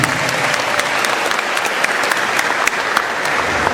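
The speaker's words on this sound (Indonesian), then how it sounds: "Boleh berikan tepuk tangan yang meriah." Audience at a school literacy festival book discussion giving a lively round of applause, thick continuous clapping with sharp individual claps standing out, loud and near.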